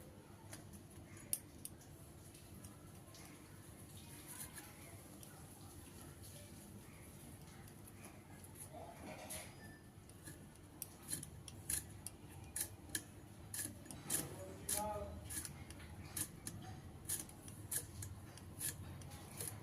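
A knife chops banana blossom (mocha) on a board for a vegetarian curry, with sharp quiet cuts that start sparse and turn into a quick irregular run later on, faint and close.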